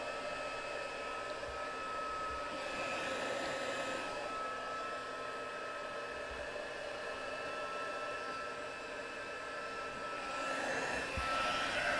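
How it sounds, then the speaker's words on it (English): A heat gun for heat embossing runs steadily while it warms up, giving a loud, continuous blowing whoosh that holds for the whole stretch, with no talking. "I'm just going to grab my heat gun. I'm just going to let this warm up for a second."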